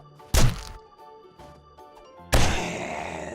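In 7 Days to Die, a melee power attack strikes a zombie with two heavy, punchy thwacks about two seconds apart, loud and close over a faint sustained game-music tone.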